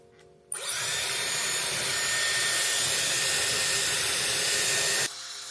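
A Dyson Airwrap switches on to dry hair, a steady loud high-pitched airflow whine starting abruptly after a quiet moment and running evenly before cutting off near the end.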